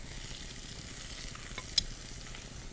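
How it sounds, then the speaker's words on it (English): Butter in a risotto pan, a steady soft sizzle and frying hiss close by, with one brief sharper crackle, no talking. "I'm going to put some butter in the risotto pan"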